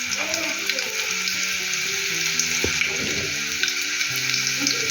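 Garlic, curry leaves and onion frying in hot oil in a pan, a steady bright sizzle with faint stirring and small clinks, while a low background hum runs under it.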